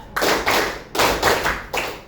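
A school class performs a counted clapping pattern, four loud group claps in an even rhythm, close and unison, each a short burst of many hands.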